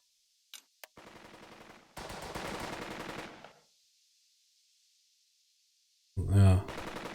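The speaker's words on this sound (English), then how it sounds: "he has no visual on that machine gun" Machine gun fire in the WW2 tactics game Burden of Command comes in rapid rattling bursts, a couple of sustained volleys broken by a quiet gap, then another loud burst near the end.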